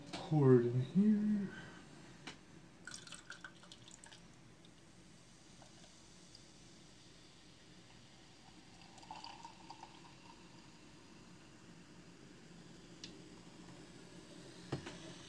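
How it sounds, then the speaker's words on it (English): Colt 45 Canada 8% beer is poured from a can into a glass, a short close gurgling splash at the start followed by faint fizzing of carbonation in a quiet room. "pour it in here."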